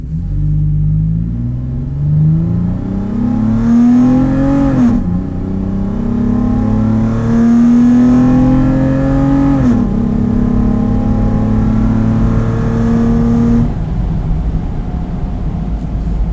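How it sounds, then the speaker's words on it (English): A loud Toyota 4Runner TRD engine with a cold air intake revs hard from a standstill and climbs steadily through the gears, each upshift dropping the pitch before it rises again, close and continuous. "I'm going to floor it off the line here."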